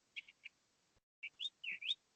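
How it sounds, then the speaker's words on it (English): Small birds chirp in the background with several short, high tweets in two brief bursts, separated by a moment of silence. The chirps are faint and sound somewhat distant. "You got some really chatty birds in your background"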